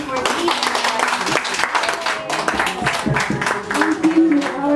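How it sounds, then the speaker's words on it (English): Congregation clapping in a church after a Gospel reading, a steady dense patter of many hands filling the space, with voices mixed into the applause. "Big clap offering for Jesus."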